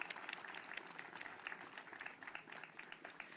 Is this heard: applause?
yes